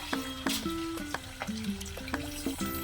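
Salted fish pieces frying one by one in hot oil make a close, steady crackling sizzle, with a few short scrapes and bumps of the pan over it and no voices.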